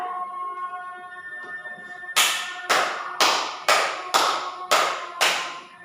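Seven crisp, loud hand claps in a steady rhythm, slapping imaginary mosquitoes during a classroom counting game, follow a quieter stretch of faint room noise and a brief murmur.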